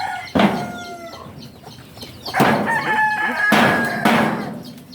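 Roosters crow loudly and repeatedly in a chicken coop, several drawn-out calls overlapping with clucking hens, close and dominant with no talk.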